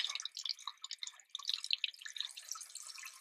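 Water from a tap runs steadily while a paint brush is rinsed under it, a close, continuous dripping and splashing patter with no voices.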